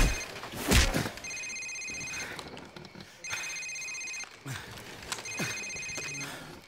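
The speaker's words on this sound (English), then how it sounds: "Sir, it's his cell phone." A cell phone rings in a Call of Duty 4: Modern Warfare safehouse scene, giving repeated electronic trills in evenly spaced bursts, with thumps and a voice between rings.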